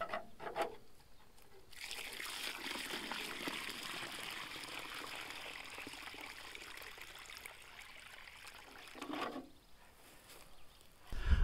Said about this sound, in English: we're gonna fill that hole with water